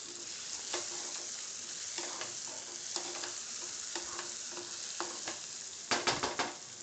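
Tomato is stirred into sizzling pav bhaji in a pan, with steady frying under regular scraping strokes of a spoon and a quick cluster of louder knocks near the end, close by and without talk.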